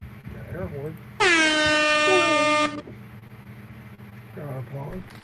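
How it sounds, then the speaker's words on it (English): A loud, sustained air horn blast lasts about a second and a half and then cuts off abruptly, with a voice talking briefly before and after it. "Air horn."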